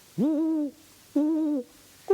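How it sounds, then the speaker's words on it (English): Two owls hoot in turn, each call a clear, drawn-out tone about half a second long with a pause between, and a third call just beginning at the end; no talking. "It's two owls, or two birds anyway."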